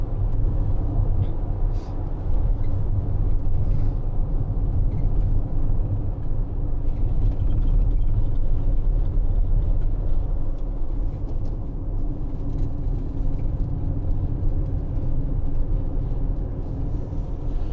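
A 2019 Citroen Relay 2.2 BlueHDi L2 H2 van cruises up a motorway in sixth gear, its steady engine drone and road rumble loud and constant from inside the cab, with no talk.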